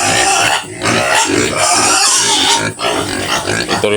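Noisy, hungry pigs in a pen on a small farm grunt and squeal loudly at close range. The sound is almost continuous, with overlapping rough snorts and brief dips between bursts.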